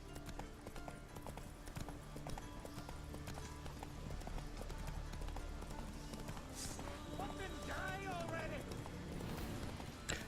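Roach the horse galloping in the Witcher 3 game, steady rapid hoofbeats running continuously under dense game music and ambience, with a brief whinny-like cry late on.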